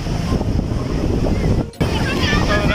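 Sea waves washing in at a beach near the Abdullah Shah Ghazi shrine, a steady close rushing wash heavy with wind buffeting on the microphone, with one brief dropout.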